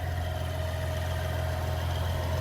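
A 2023 Grand Wagoneer's Hurricane twin-turbo inline-six engine idles steadily with a low, even hum and no revving, close by and unchanging throughout.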